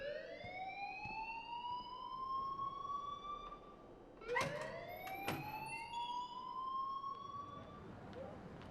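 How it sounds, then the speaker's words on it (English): A fire alarm in Life Is Strange wails in long rising sweeps, one steady tone climbing and then restarting after a brief gap, with sharp clicks and a short burst of noise in the middle, all fairly faint. "please turn off that alarm since that's your job"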